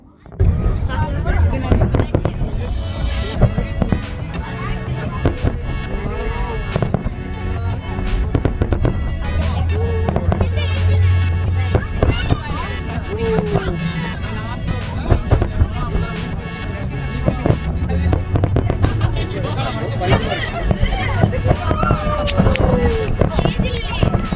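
Fireworks at night after a car drifting event in the Liwa Moreeb desert, UAE, crackle and pop in continuous dense bursts, loud and close, with crowd chatter underneath throughout.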